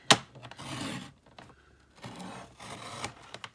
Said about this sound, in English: I'll finish the rest, cut it with scissors